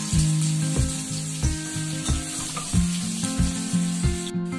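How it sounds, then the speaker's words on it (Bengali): Onion fries in hot oil with dried red chilli and nigella seeds, sizzling steadily while a utensil stirs and scrapes the pan in a regular rhythm. "একটু পেঁয়াজ দিয়ে দিলাম।"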